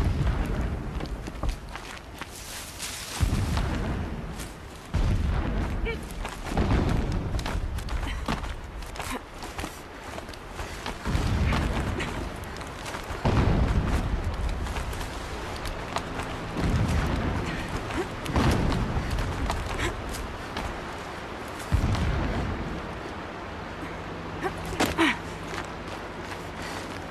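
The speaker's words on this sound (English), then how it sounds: "explosions in the distance" Deep booms in the Horizon Zero Dawn game world roll in from far off, several separate thuds spaced across the stretch, each swelling and fading over a faint continuous background.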